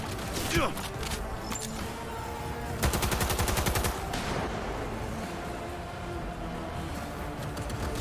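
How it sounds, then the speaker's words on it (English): Close-range gunfire in the Cyberpunk 2077 video game: loud shots crack out early, then a rapid automatic burst rattles for about a second, set against busy, dense game noise. "Firing at close range!"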